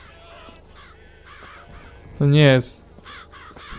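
Ravens in BioShock Infinite give repeated croaking caws, one loud close call standing out amid fainter ones, while someone speaks Polish over them.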